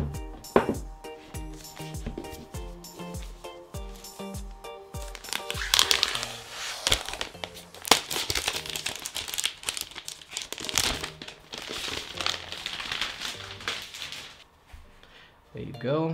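Packaging for a 2018 six-core MacBook Pro is torn, crinkled and pulled open up close, with sharp cracks and rustling bursts, and a voice talks intermittently over it.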